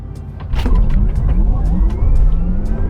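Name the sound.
Porsche Taycan Turbo S electric car launch control acceleration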